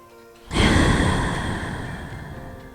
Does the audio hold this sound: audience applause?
no